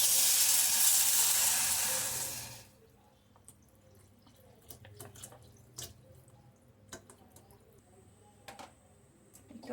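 Milk pours in a steady, rushing stream into sago pudding cooking in a pot for about two and a half seconds, then stops, leaving faint scattered clinks and soft stirring sounds.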